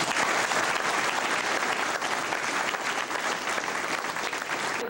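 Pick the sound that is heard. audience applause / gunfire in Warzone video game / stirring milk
audience applause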